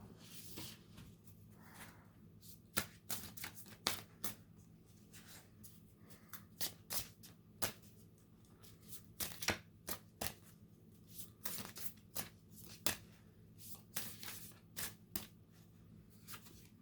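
Cards for an intuitive reading being shuffled by hand, a soft irregular series of riffling snaps and flutters, close but quiet, with no voice.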